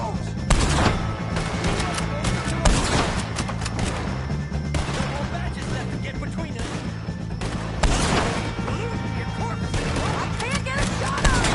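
Heavy gunfire crackles through an outlaw shootout in Red Dead Redemption 2, with repeated loud, close shots and sharp impacts over a busy background as voices shout between the volleys.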